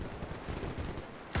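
Massed rifle fire from ranged weapons in a World War I battle in the Mount & Blade Warband mod The Parabellum crackles as a steady, fairly distant fusillade, ending in a sharp loud shot.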